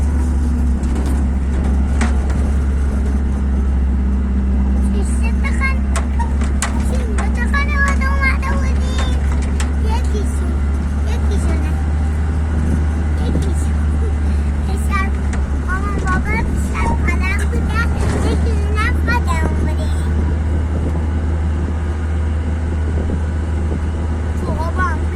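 A Nissan pickup truck cruises along a road with a steady low engine and tyre rumble, under ongoing conversation and occasional rattles from inside the cab.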